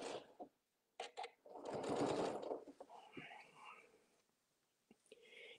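Sewing machine back stitching a 3/8-inch seam on a 4-patch squared table mat, a short loud whirring run in the middle with soft clicks around it and quiet talk.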